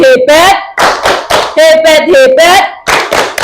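Classroom children performing the 'tepuk hebat' clap chant: a run of rhythmic claps mixed with loud, close group voices chanting in time, several short bursts in quick succession.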